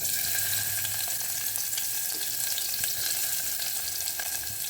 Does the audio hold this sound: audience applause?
no